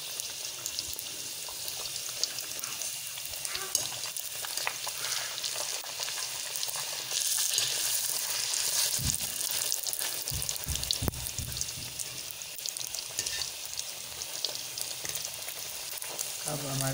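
Golgappa puris frying in very hot ghee, a dense, steady crackling sizzle that carries the whole time, close and fairly loud, with a few low knocks and clatters partway through.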